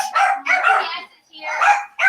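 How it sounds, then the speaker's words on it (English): Several loud, close dog barks in quick bursts, with a short pause before another volley and a final bark at the end. "the dogs are barking like crazy"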